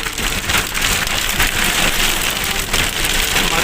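Heavy rain pours down in Abbottabad during a flood warning, a loud, dense, unbroken hiss of drops beating on surfaces close by, with no talking.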